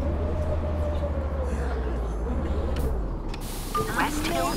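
A bus pulls up to a stop in the video game Bus Simulator 16, with a low engine rumble settling down and a brief air brake hiss at the end, all under ongoing talk.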